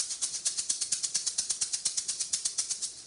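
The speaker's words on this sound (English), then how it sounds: "it is actually made of plastic and it has dried up beans in it, and it's a shaker" A plastic orange-shaped shaker filled with dried beans, shaken in a steady quick rhythm of about fifteen crisp rattling pulses, close and clear with nothing else heard.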